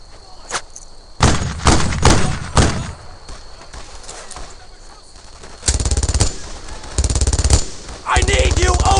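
Machine gun fire in the World War II shooter Brothers in Arms: Earned in Blood, loud close bursts of rapid automatic shots in repeated volleys, with soldiers shouting in between.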